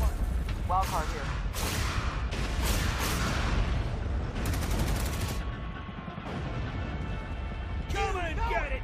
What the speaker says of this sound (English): Artillery fire on opposition.